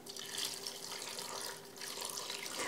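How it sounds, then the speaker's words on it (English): Water pours steadily into a roomy cooking pot of navy beans with ham and parsley on a wood stove, a continuous near splashing rush with brief dips, no talk. "To add some water now."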